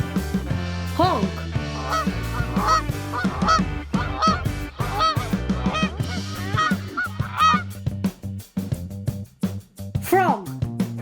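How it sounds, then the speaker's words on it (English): Geese honk repeatedly over a steady musical backing, their calls loud and close, coming in irregular bursts across the whole stretch. "Geese, honk."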